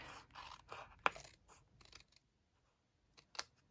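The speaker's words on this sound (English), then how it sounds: "Cut to the as close to the edge of that basic white sheet as you can." Scissors cut a sheet of white card in a few close, quiet snips and crisp crunching cuts, with a sharp click at one point, a brief pause, then two more snips.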